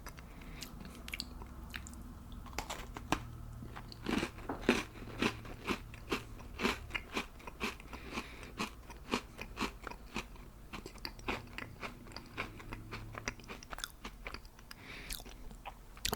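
Crunchy stuffed Oreo cookies being bitten and chewed close to the mic, with a steady run of crisp crackling crunches and soft wet chewing, no talking.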